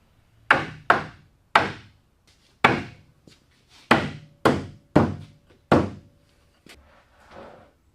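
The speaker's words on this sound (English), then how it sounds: "That top frame goes on, hammer that home" Solid wooden thunks from a hammer driving wooden desk frame joints together, about ten blows in uneven bursts, close and sharp, each dying away quickly into quiet.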